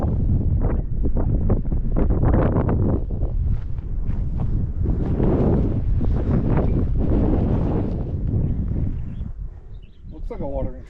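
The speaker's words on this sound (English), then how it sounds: "the wind is picking up" Strong gusting wind buffets the microphone on an open prairie trail at Boland Ridge in Wind Cave National Park, a loud continuous roar with rustling and footsteps, and a person speaks near the end.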